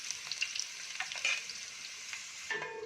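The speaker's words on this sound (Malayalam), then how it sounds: "ഈ സവാള വറുത്തെടുക്കാനുള്ളതാണ്" Sliced onions and curry leaves frying in hot oil in a pan give off a steady, close crackling sizzle with a few sharp pops, changing in tone near the end as the pieces are stirred.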